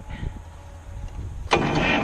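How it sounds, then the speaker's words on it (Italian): A Fordson Super Major tractor engine is heard starting: a low rumble runs for about a second and a half, then the engine suddenly catches and bursts into loud, steady running close by. "adesso accendo il trattore"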